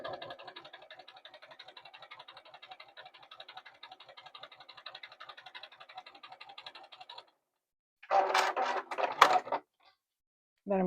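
A sewing machine stitches a quarter-inch seam on a Churn Dash quilt-as-you-go block, giving a steady, rapid, close whir for about seven seconds before stopping. Brief speech follows.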